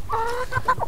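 Chickens cluck in a short burst of several close, fairly loud calls in a backyard garden where coffee grounds and oyster mushroom mycelium are being handled.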